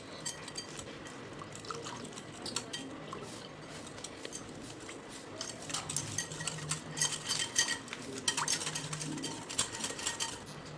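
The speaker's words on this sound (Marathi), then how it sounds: "त्यामध्ये आता थोडं थोडं पाणी टाकून आपल्याला मिक्स करायचं आहे." A spoon stirs cornflour mixed with a little water in a bowl, clinking and scraping softly and unevenly. The strokes grow busier and louder toward the end, with no speech.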